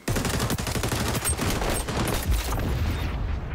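Rapid gunfire in the XDefiant shooter game, dense overlapping bursts of automatic shots that run continuously and loudly throughout, with no voices.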